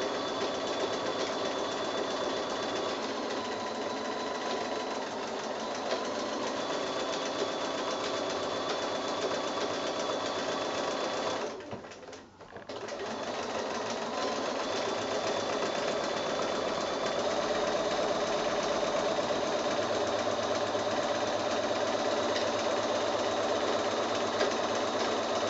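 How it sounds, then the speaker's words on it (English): A domestic sewing machine stitches steadily while free-motion quilting a bugs-in-boxes quilt, its fast, even whirr running almost continuously with one brief pause midway. "doing it free motion like this"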